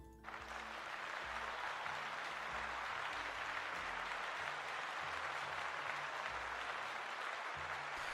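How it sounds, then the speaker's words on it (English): Steady applause from a small audience after a participant finishes sharing a homebrew Dungeons & Dragons class, continuous and fairly even throughout with no talk over it. "Let's give Crimson a round of applause."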